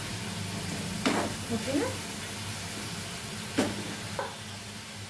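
Green chillies frying in a pan give a low steady sizzle, with two sharp clacks of a utensil on the pan and a few faint scrapes; a voice speaks briefly.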